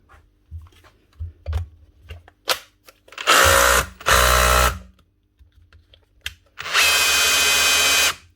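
A Makita DHR242 SDS hammer drill in drill-only mode whirs in three loud, sustained bursts, separated by short pauses filled with clicks and handling noises.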